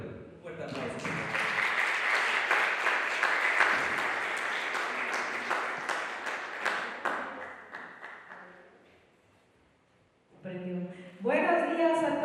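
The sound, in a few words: audience applause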